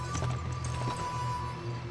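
Rhythmic clip-clop of horse hooves in the Western video game Gun, steady soft beats over a droning tone and faint background sound.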